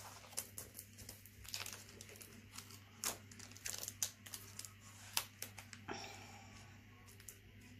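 Tape is peeled off and lifted from a Stalogy B6 planner page, with faint, close crinkling and crackling plus a few soft tearing rustles in an otherwise quiet room.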